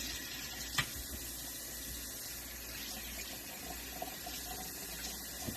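A steady, faint rush of warm water running from a tap, continuous and even throughout, with a couple of small clinks.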